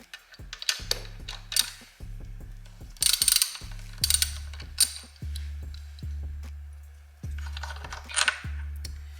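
A hand ratchet loosens a bolt on a Ducati motorcycle, clicking in repeated close, loud strokes, each pass a rapid pawl rattle followed by short pauses, with no talk.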